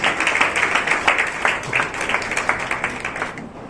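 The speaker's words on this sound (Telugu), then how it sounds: "అందరూ కూడా చప్పట్లు కొట్టి ఆహ్వానం తెలియజేద్దాం." A congregation at a Youth Sunday church service claps steadily to welcome a guest speaker, with even, sustained applause that softens slightly toward the end.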